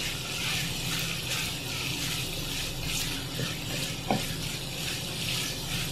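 Beef tripe fries in a pan with cumin powder and garam masala, giving a steady, even sizzle with a faint scrape of stirring partway through.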